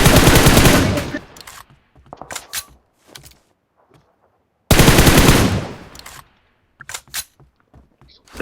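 Video game gunfire in two loud, close bursts of rapid automatic shots, each lasting about a second, separated by quieter stretches with scattered faint pops and brief talk.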